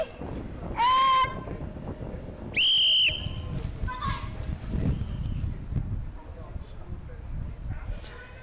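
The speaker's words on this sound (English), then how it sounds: "Start on the whistle." A referee's whistle starts a game: two loud, sharp blasts a couple of seconds apart, heard over rumbling crowd noise and background chatter.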